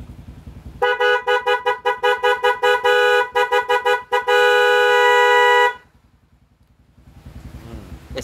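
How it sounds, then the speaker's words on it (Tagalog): A loud motorcycle dual horn honks in a rapid series of short blasts, then one long sustained blare, before the idling engine returns. "Then dual horn."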